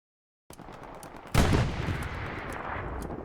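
A tank fires in Hell Let Loose, a World War II shooter. One heavy, booming blast hits nearby, followed by sustained gunfire and battle rumble.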